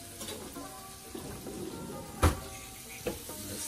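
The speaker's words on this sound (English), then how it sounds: "Let's stir it" Brown stew fish with onion and crushed pepper stirred in a pot over high heat, a quiet sizzle with faint scraping and two sharp spoon knocks against the pot.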